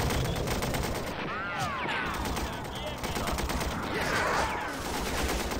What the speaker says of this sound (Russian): Вот обычно такой взрыв, это именно от зенитки.